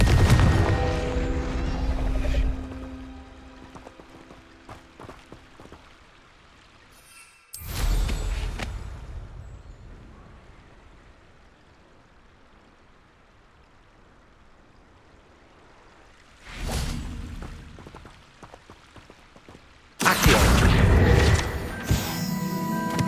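Confringo fire spell blasts in Hogwarts Legacy on PS5, several loud explosive bursts separated by quieter gaps, each with a crackling, roaring tail.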